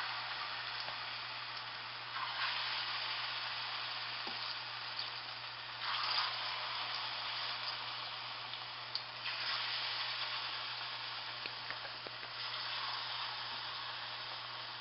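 Plantain slices fry in hot oil at medium heat, giving a steady broadband sizzle with gentle surges and no talk.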